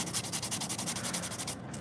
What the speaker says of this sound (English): Buff the heck out of this one, because this one's a little scratched up from the drill marks